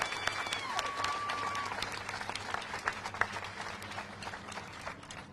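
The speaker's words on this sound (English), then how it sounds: "Give them a round of applause" Crowd applause at an outdoor rally for Elijah McClain's family, a dense wash of clapping and scattered cheers held steady throughout before thinning slightly at the end.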